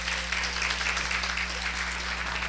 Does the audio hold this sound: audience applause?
yes